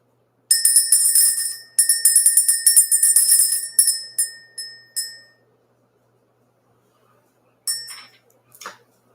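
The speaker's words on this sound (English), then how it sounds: "We're getting ready to ring this bell." A bell rung to clear the energy before a spiritual reading gives a rapid run of bright, ringing strikes, then several single strikes that fade to silence, followed by two more short rings near the end.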